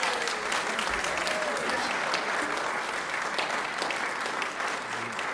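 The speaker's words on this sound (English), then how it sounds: "So let's give them all a nice round of applause for what they've earned." Sustained applause from a congregation at a church service fills the space with steady, moderately quiet clapping from many people, with a faint tone and murmur briefly audible underneath.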